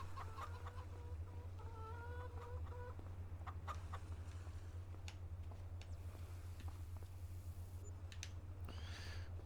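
Chickens on a farm in the video game Farming Simulator 25 give several short clucks and calls over a constant low machine hum, moderately close, with no talking.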